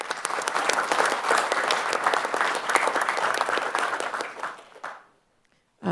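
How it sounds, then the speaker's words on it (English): A room at a city council meeting breaks into a sustained round of applause from the audience, dense steady clapping for about four seconds before fading out, followed by a brief pause. "Can we give them a round of applause?"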